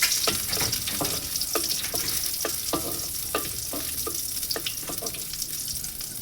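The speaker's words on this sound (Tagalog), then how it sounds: "At igigisa ko yung kamatis." Tomatoes sauté in butter in a pan, a dense steady sizzle close by with a series of scraping clicks from stirring scattered throughout.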